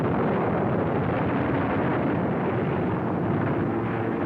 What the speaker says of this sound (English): the Nazis bombed the city anyway